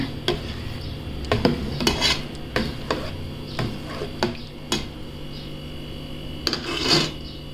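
Papad batter being stirred and scraped in a pan with a utensil, giving repeated irregular scrapes and clinks close up at moderate volume, with no talking.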